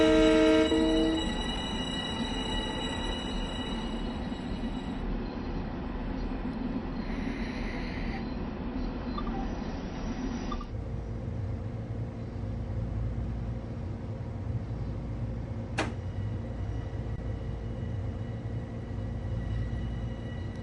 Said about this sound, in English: a noisy train, isn't it?